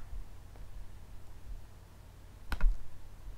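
A single crisp mouse click on a code checker's lint button stands out briefly over a faint steady hiss of room noise, close and fairly quiet, with no talking.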